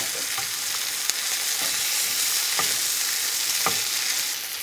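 Caramelized onions with bourbon simmer in a pan with a constant close sizzle, punctuated by a few soft stirring scrapes.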